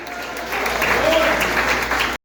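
Church congregation applauding steadily during a family worship service, a sustained wash of clapping that runs at even strength before cutting off abruptly near the end.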